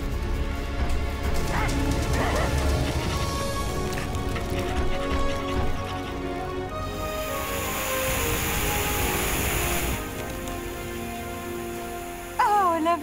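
Dogs bark and yip during an animated fire rescue, the barks mixed with loud crashing, rumbling rescue action and a sustained roar like an aircraft or engine passing overhead.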